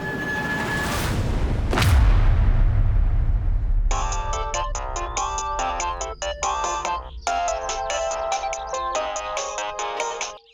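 A whooshing boom sweeps past, then a phone ringtone plays a repeating electronic melody in steady bursts, loud and close.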